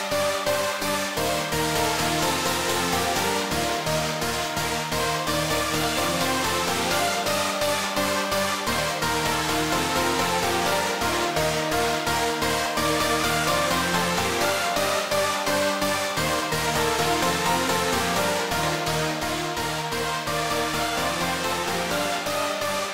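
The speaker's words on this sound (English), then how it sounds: "So now I get a nice hook sound which has got a nice big wide stereo image but also has a nice center" A dense EDM mainroom synth hook with a big, wide stereo spread and a solid centre plays a fast, repeating rhythmic pattern, loud, bright and without any voices.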